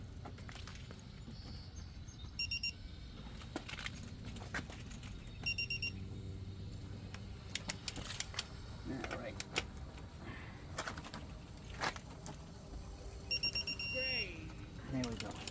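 A torque wrench set to 150 foot-pounds tightens truck lug nuts through a Casoman lug nut socket, giving sharp clicks in short bursts over a steady shop background, with brief talk.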